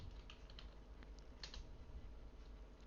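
Keys tap on a computer keyboard as a command is entered during Cisco switch configuration, a quiet run of light clicks over a steady low background hum.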